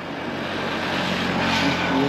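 A fully loaded motorbike idles on a roadside beside farm fields on a ride from Ahmedabad to Bhuj, giving a steady, loud engine drone that rises slightly in pitch over two seconds.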